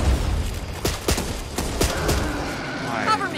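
Grenade blast and gunfire in the co-op zombie shooter Back 4 Blood, with several sharp bursts and thuds over a constant dense game mix, partly under voices.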